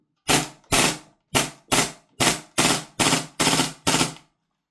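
A VORSK VMP1 airsoft gun fires on gas: nine sharp, loud cracks come in an even semi-automatic rhythm over about four seconds, each shot a distinct close report with silence between.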